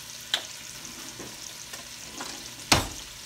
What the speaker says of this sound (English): I'm gonna add my peppers and my onions. Put that in there, get a good saute on them.